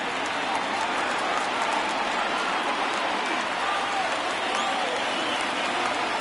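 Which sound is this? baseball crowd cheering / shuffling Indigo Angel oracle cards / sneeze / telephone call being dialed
baseball crowd cheering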